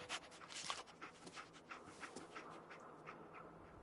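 Dogmeat, the dog companion in Fallout 4, pants quietly in quick, uneven breaths, faint and close, with a few soft rustles and no talking.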